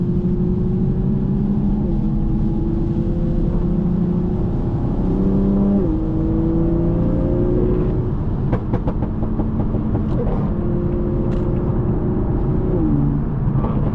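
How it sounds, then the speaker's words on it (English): A 2020 Toyota Supra running a maxed-out burble tune drones steadily at cruising speed, with engine tone shifting slightly and a brief cluster of exhaust crackles and pops partway through. "I think it's struggling to produce the most aggressive burble for a long period of time"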